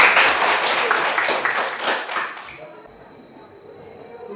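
A school class claps together in a classroom, a burst of brisk, close hand claps for about two and a half seconds that stops abruptly, leaving a quiet room with faint background hum.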